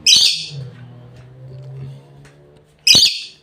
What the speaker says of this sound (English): can hear the magpies out here somewhere